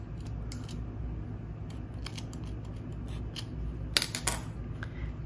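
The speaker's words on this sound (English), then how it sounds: "You can turn to the back and cut off all these extra pieces now." Scissors snip off leftover crochet yarn ends on a puffy flower cardigan: two quick, crisp cuts close together near the end, over a steady low background hum.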